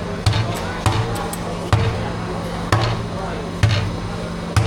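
A big hammer pounds hard, sticky ice cream in a shop in Damascus, giving heavy thuds at a steady slow rhythm, roughly one every second, close by under a low background murmur.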